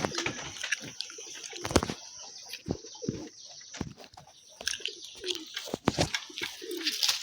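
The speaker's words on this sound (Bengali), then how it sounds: "এই দেখুন একটা বাচ্চা পায়রা" Pigeons, including young squabs, coo in soft repeated throaty calls close by, with sharp clattering knocks and rustles between them.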